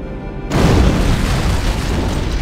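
An antimatter charge detonates aboard a ship in Halo: Combat Evolved, a sudden loud boom that bursts in after a moment of quiet hum and then rolls on as a dense, rumbling roar.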